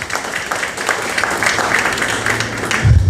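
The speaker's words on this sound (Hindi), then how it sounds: "इनके लिए ताली बजाओ।" Applause and clapping from an audience at a Hindi-language church gathering on anointing, a steady mass of claps close by for about three seconds, swelling slightly at the end.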